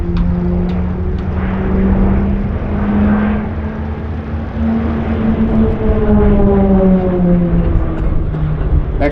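Propeller aircraft of the Royal Australian Air Force formation and aerobatic team fly over the Temora airshow, a loud steady engine drone with shifting pitch as the planes pass, continuous and fairly close.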